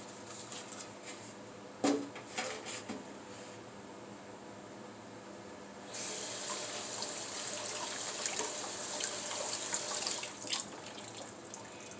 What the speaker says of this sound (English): I'm going to rinse my meat off.